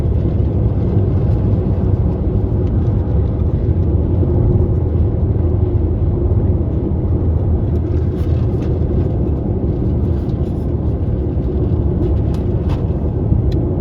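Steady low road and engine rumble inside a 2013 Hyundai Elantra GLS cruising on a highway, a constant broadband drone with no speech heard.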